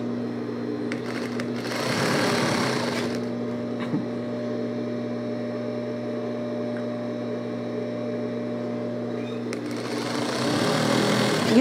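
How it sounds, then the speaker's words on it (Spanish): Steady whirring of a sewing machine stitching fabric while a simple blouse is altered into a dress, running continuously at moderate volume with faint fabric handling and a brief pause. "vamos a coser esto"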